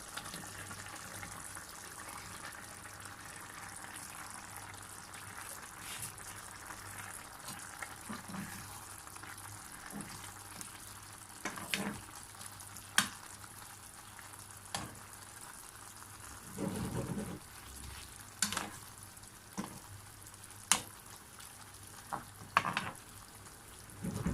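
Okra is added to a pan of cooking stew with boiling water, giving a faint steady simmering sizzle and bubbling, broken by scattered soft clinks and splashes as pieces drop in.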